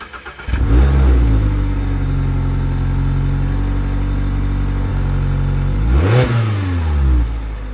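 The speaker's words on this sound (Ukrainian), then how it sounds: "Тут ставимо відос, як вона газує." A loud Mazda MX-5 Miata engine revs up hard and holds at a high roar, dips, then revs sharply again before settling, close by with no talking.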